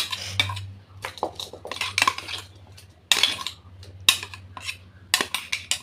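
Spiced raw prawn paste being scraped into an empty wok for steamed prawns, with sharp metallic clinks and scrapes of a utensil against the pan, irregular and close, with no talk.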